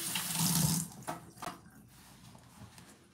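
Tap water runs into a kitchen sink as hands are rinsed during salmon cooking, a loud splashing burst for under a second that fades into softer trickles and small clatters.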